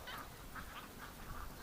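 Ducks kept in a snowy winter pen give a few honking quacks, spaced calls rising over a steady outdoor background noise, moderately close and fairly faint.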